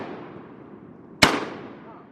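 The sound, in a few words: shotgun fired while duck hunting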